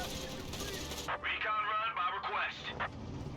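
Rapid bursts of gunfire in the video game Company of Heroes 3, a 4v4 match, crackle in quick succession, with game sound effects and a voice speaking over them.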